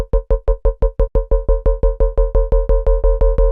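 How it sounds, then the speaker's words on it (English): Jump-up drum and bass synth bass, loud and alone, hitting in a steady fast stream of about twenty punchy notes, each with a bright attack and decaying buzzy tail, its tone wobbling as an LFO sweeps it. "So you got sort of like a nice jump up style bass."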